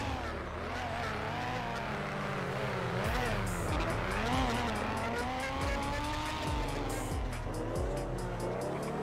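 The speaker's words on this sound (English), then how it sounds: "Your car's so loud." A loud car drives in the video game GTA 5, with a revving engine rising and falling, repeated tire squeals and skids throughout, and players talking over it.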